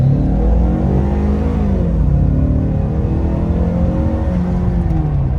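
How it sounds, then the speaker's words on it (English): A Ford Mustang EcoBoost pulls away hard from a standstill, its engine rising in a loud, continuous rev that climbs steadily in pitch close by, with no talking over it. "Full brakes in, give it some gas, and up we go."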